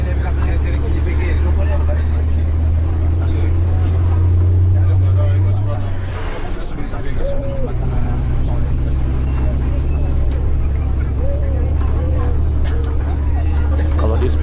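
A bus engine running with its exhaust pipe missing gives a loud, steady low rumble throughout, a deep drone with a rough edge. It dips briefly midway, then resumes at the same level.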